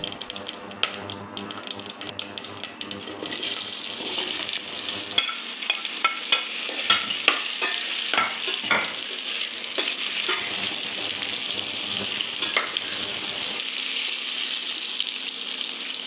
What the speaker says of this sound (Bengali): 2 চা চামচ কালো সর্ষে ফোড়ন দিলাম।